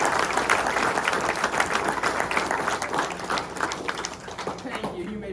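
Loud, sustained applause from a banquet audience at a North Decatur FFA event, dense clapping filling the room with a crowd murmur and voices mixed in, gradually thinning toward the end.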